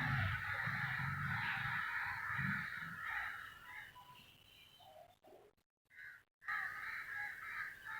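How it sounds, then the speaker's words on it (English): Several crows caw in harsh, repeated calls that run almost continuously at moderate distance, broken by a few short silent gaps near the end. "Something is wrong with these crows."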